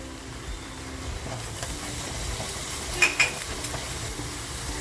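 Masala with turmeric sizzles in a pan for a spicy crab dish, a soft steady frying hiss with a spoon scraping and stirring and a couple of sharp metallic clinks near the end, close and without talk.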